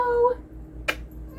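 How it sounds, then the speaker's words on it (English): A house cat gives a short, close meow at the start, followed by a brief sharp noise nearby, in a quiet room. "Jasper, my cat, is coming to say hi"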